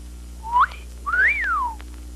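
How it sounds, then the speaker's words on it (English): A thin, airy whistle rises and falls twice, a short swoop followed by a longer arcing tone, over a steady low hum. "The wind whistles around a street corner."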